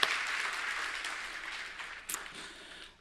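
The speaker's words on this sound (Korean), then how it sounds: "우리 그 자녀들을 축복하는 격려의 박수 같이 드리도록 하겠습니다." A church congregation applauds during a Sunday worship service, a brief burst of steady clapping from many hands in a reverberant room, fading out at the end.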